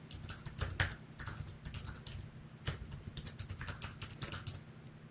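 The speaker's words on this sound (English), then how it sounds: "Let's go ahead and type out an email." Quiet, irregular bursts of keystrokes on a computer keyboard while typing an email address during a password manager login, the clicks soft and close with short pauses between runs.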